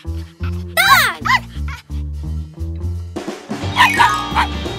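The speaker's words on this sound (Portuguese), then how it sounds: "Cachorro!" A dog barks in a series of short yips and a rising whine, loud and close, over a steady tonal musical background.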